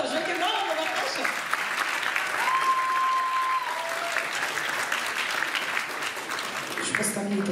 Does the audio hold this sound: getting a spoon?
no